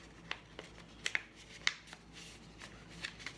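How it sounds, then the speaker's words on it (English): Stiff cardstock being creased and folded by hand while making a mythical puppet, giving a few sharp crinkling snaps and rustles spread over a few seconds, close and fairly quiet. "I'm using cardstock, so mine's a little bit harder to fold."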